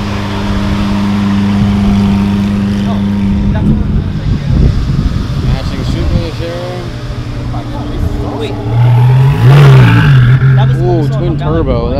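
A Lamborghini Aventador revs at a supercar show, its engine note rising over crowd chatter and voices, with a louder burst near the end amid the busy outdoor noise.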